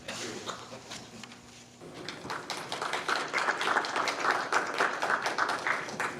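An audience claps after a speech, starting thin and scattered, then building into fuller, uneven applause with sharp individual hand claps standing out near the listener.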